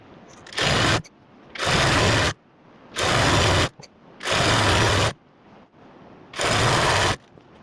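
A sewing machine stitches a ladies' summer suit in five steady runs of close, loud whirring, each a second or so long, separated by short pauses.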